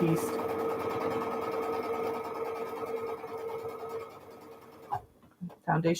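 A sewing machine hums in a continuous steady run while stitching foundation-pieced string quilt blocks, then stops abruptly; a few soft handling sounds and a voice follow near the end.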